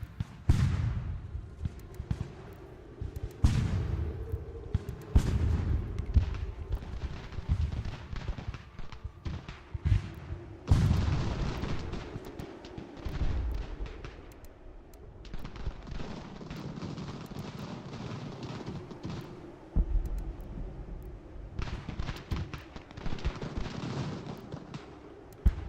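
Musket volleys and artillery fire in Ultimate General: American Revolution: repeated booming cannon shots and crackling volleys, some heavy and close, others lighter and more distant, spread irregularly over a low continuous rumble.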